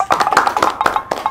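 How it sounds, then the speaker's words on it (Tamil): A quick series of sharp hand claps or taps at a Tamil film promotion interview, about a dozen close, bright hits in an uneven rhythm. "கைதட்டுறேன்."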